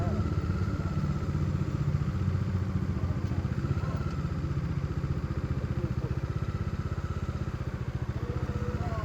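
A motorcycle ridden up a steep, foggy mountain road on the way to Darjeeling near Lamahatta forest, its engine a loud, steady, close throb filling the whole stretch, rising and easing slightly as it climbs.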